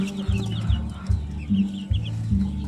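Chicks kept in a makeshift brooder cage peep and cheep repeatedly, close and fairly loud, with soft low clucking mixed in and no speech.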